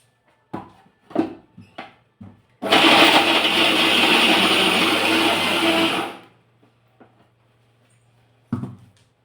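A kitchen mixer grinder grinds sesame seeds and jaggery in one loud, harsh burst of about three and a half seconds, then stops. Scattered clicks and handling knocks come before and after the grinding.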